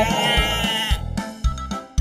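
A cartoon goat gives a loud, close, wavering bleat, followed by a few shorter bleating bursts in a quick run.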